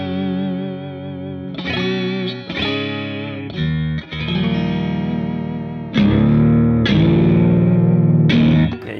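Fender Custom Shop Stratocaster electric guitar with an RSD tremolo bridge arm, played through distortion and chorus, sustained chords wavering in pitch as the arm is worked, with several loud strummed attacks, solo and close.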